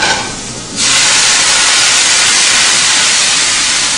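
White wine poured into sautéed mushrooms in a hot pan for tagliatelle with truffle, bursting into a loud, steady sizzling hiss after a brief quieter moment and continuing without pause.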